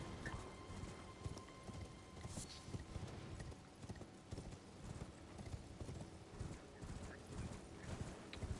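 Torrent, a horse in a video game, galloping with rapid, steady clip-clop hoofbeats throughout, fairly close and continuous, with no talking over it.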